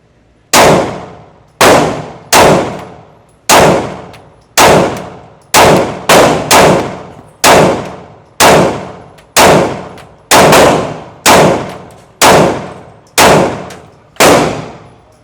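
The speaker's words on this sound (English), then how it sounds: "this is the first time shooting this pistol. And this is the M&P Shield X, chambered in 9mm." Fourteen sharp, loud gunshots from an M&P Shield X 9mm pistol firing 115-grain Blazer ammunition, spaced about a second apart with a brief quick pair, each crack followed by a short ringing decay.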